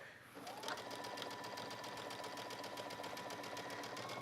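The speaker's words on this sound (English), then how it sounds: "So I'm stitching right on the edge of that serge." A sewing machine topstitching along the serged edge of a shirt hem starts up and then runs at a steady, fast mechanical rattle close by, with no pause and no speech.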